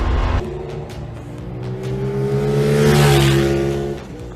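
A 2022 CFmoto 450SR motorcycle engine revs hard on a test ride, its pitch climbing steadily through a throttle run with strong steady roar and wind noise, ending in a quick drop.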